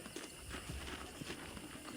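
Horse hooves clip-clopping in Red Dead Redemption, a steady run of close hoofbeats over a noisy outdoor bed.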